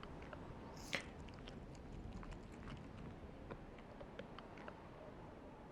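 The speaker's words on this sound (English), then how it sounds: "And the chewing sounds" Frampt's chewing in the video game Dark Souls: a quiet, steady wet crunching and gnashing with small irregular bites that continue throughout, and one sharper snap near the start.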